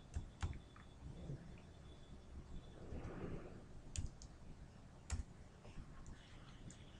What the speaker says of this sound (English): Then click on OK.